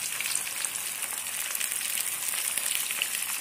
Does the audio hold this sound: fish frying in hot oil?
yes